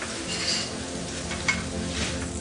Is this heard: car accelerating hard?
no